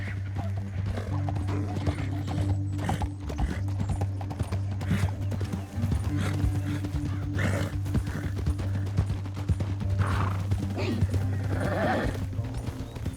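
Horses ridden in the video game Red Dead Redemption 2, steady clip-clop of hooves with a whinny, over a low droning score and occasional speech.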